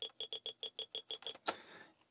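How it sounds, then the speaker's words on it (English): Rapid, evenly spaced run of about eleven short high-pitched beeps from a Laser 128EX computer at higher speed, ending in a louder burst that fades out, fairly quiet overall. "Oh, it's even higher pitch now."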